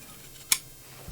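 A single crisp snip of scissors cutting excess fabric from a sewn pouch, close and brief against a quiet background, followed by a faint soft rustle.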